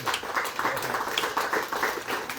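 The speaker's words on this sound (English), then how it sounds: "Give these guys a round of applause" Audience applause at a candidate forum, a steady crowd of hands clapping at moderate volume for a couple of seconds, with no talking.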